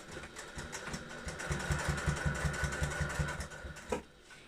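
A sewing machine stitches black thread along the fold of bias binding at a 2.5 stitch length, a close, steady rhythmic whirring run of even pulses that stops near the end.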